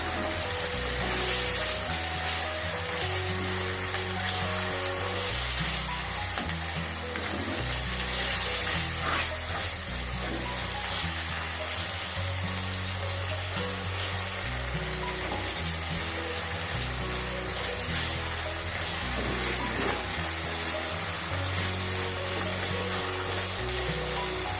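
Keema matar frying in a pan as yogurt is stirred in, a steady close sizzle with scraping spoon-stir clatter running continuously, music-like tonal bed underneath, no talk.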